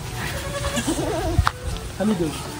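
Goats bleating at a farm by a river, a few wavering calls rising through the middle of the clip under and between people talking nearby.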